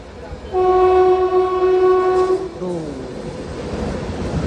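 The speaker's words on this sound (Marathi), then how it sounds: "फायनली ट्रेन आली आहे" A train sounds a long, loud horn blast, then its rumble continues as it rolls past close by, with faint voices in the background.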